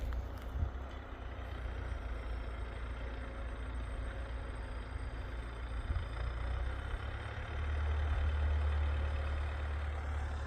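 Tractor engine, compared with an 82 or 80 model, running while working a field with a plow or ripper; a steady low drone throughout with a louder, heavier stretch toward the end and no voices.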